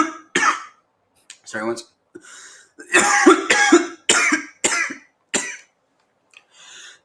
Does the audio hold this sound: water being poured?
no